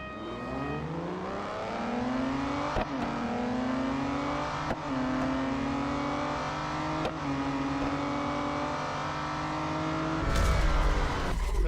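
Race car engines rev steadily in the Real Racing 3 mobile racing game, a loud sustained drone with rising pitch, brief shift dips, and a harsher burst near the end, without any talk.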